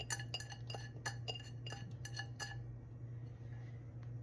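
Ingredients tumble from one container into a bigger glass bowl, giving a quick run of bright clinks and taps on glass, dense in the first half before settling into quiet kitchen hum.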